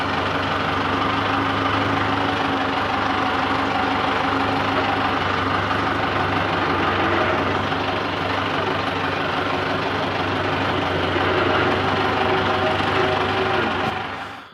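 A tractor engine idles steadily and loudly for the whole stretch, a dense low rumble with a constant throb and no voices, holding an even level until it cuts off at the very end.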